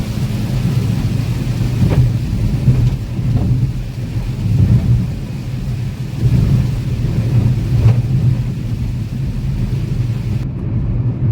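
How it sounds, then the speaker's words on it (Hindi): A short monsoon rain shower on the road in Maharashtra between Goa and Pune, a steady hiss of rain over a continuous low rumble from a moving vehicle, with no one talking. "देखो 2 मिनट भी नहीं हुई बारिश।"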